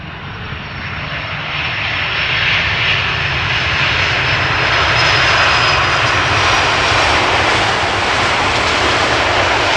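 Airliner landing at Amsterdam Schiphol with idle reverse thrust, a loud, broad jet engine roar that swells and holds steady as the aircraft rolls out nearby, with no voices.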